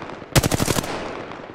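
Apex Legends gunfire rips out as a rapid automatic burst of about seven close, loud shots, then rings off in a short tail.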